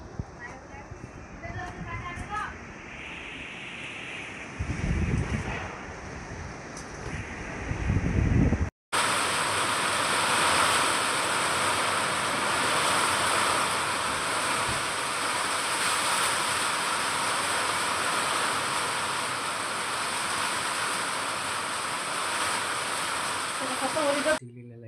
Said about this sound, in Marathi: खूप जोरात पाऊस चालू आहे इकडे.